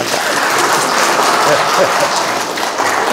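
Audience at a Korean communication lecture claps in a dense, sustained burst of applause that fills the whole moment, with a voice speaking briefly over it.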